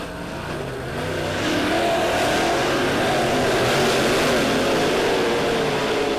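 Dirt-oval race cars at Lebanon Midway Speedway during a heat race, engines roaring steadily and building louder after the first second into a sustained, rising and falling mid-distance drone of several cars at once.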